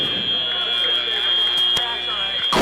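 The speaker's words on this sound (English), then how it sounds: "The robots have to be suspended during the final buzzer." A final buzzer sounds at a FIRST Tech Challenge robotics championship match, a loud sustained electronic tone held steadily throughout over crowd noise in a busy competition hall.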